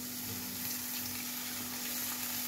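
Steady soft sizzle of finely chopped dill greens frying with reddish onion and green chilli in a pan, a continuous broadband hiss with faint stirring and no voices.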